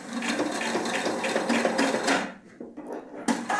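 A Husqvarna Topaz 25 sewing machine stitching a seam at high speed, a steady close mechanical whirr for about two seconds before it slows and stops, then a brief restart.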